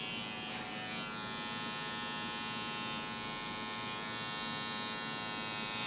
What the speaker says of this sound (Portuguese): Eu vou secar esse cabelo